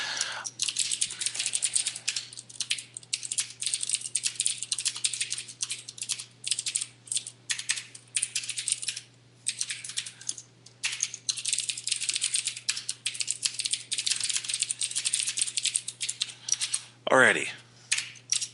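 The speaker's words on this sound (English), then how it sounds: "I'm just typing at the same time." Rapid, continuous typing on a computer keyboard during a C# programming session, dense clicking keystrokes running nearly throughout with brief pauses and a low steady hum beneath, plus one short louder clatter near the end.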